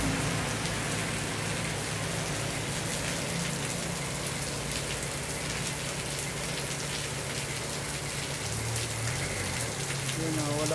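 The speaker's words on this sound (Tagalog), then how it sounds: "Grabe, ang lakas ng ulan hanggang gabi." Heavy rain pours down steadily and loudly on a street in Baguio City, a dense continuous hiss of drops beating on surfaces with no letup.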